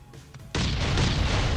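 Barrel bomb exploding in the survival game Last Island of Survival: a single sudden loud blast that holds as a sustained rumbling roar after a quiet start.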